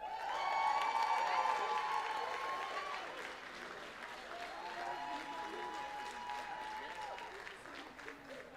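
An awards-night audience applauds and cheers for local heroes, loud dense clapping at first easing to a steady lighter patter, with sustained musical tones playing over the crowd throughout.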